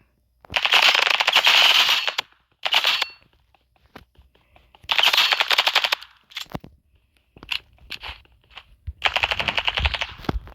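Uzi submachine gun firing in the video game Rivals, four or five loud bursts of rapid automatic fire separated by short pauses, with faint clicks and shuffling between bursts.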